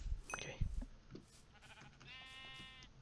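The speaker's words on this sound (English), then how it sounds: "There's a lot of sheep here." A single Minecraft sheep bleats briefly, fairly close, after a few soft thumps and rustles, standing alone in a quiet scene.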